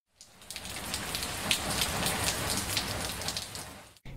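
Light drizzle falls in El Naranjal, Veracruz, a close, steady wash of fine droplets pattering on surfaces that starts abruptly and holds evenly for a few seconds before cutting off.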